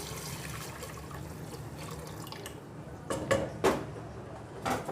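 Water splashes into a pot of whole moong dal in a few short, uneven bursts over a steady low kitchen hum.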